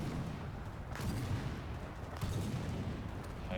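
A tank cannon firing in War Thunder, with two sharp booming shots about a second apart rising out of a constant rumble of engine and battlefield noise.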